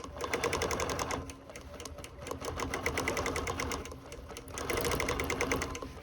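A sewing machine stitches decorative yarn onto a quilt, a fast rhythmic mechanical chatter running close and steady, pausing briefly near the middle before resuming at full pace.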